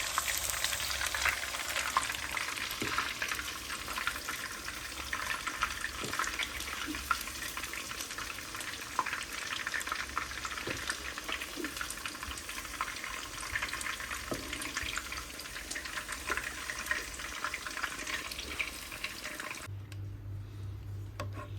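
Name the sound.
chicken frying in oil in pan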